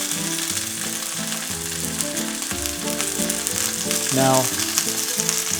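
Chicken browns on high heat in a pan with a loud, steady, close sizzle and spatter that runs throughout, while someone briefly speaks over it.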